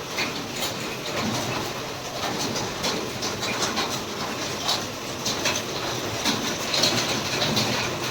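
Heavy rain with big drops pounds a metal sheet roof on a house, making a dense, steady, loud drumming roar that continues without a break. No one speaks.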